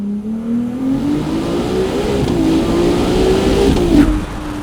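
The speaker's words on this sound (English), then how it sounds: "despite masses of extra mid-range torque and an overtly turbocharged soundtrack, there's still brilliant throttle response and a sense of reward for chasing the red line" A Ferrari 296 GTB with a turbocharged engine accelerates hard, its rising engine note climbing steadily and loud and close before easing near the end, with no talking.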